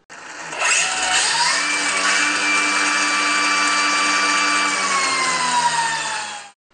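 A power tool with a brushless DC motor spins up and runs, giving a steady electric whine with rising and falling tonal pitch, close and continuous before cutting off at the end.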